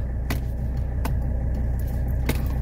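Turn signal on a 1985 Mercedes 300D with the engine idling, giving three sharp, evenly spaced ticks about a second apart over a steady low diesel rumble, recorded close up.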